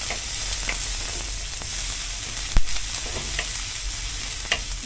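Garlic and onion sautéing in a pan for pesto pasta with mackerel, a steady broadband sizzle throughout with a few soft clicks of stirring and one sharp knock near the middle; no talking.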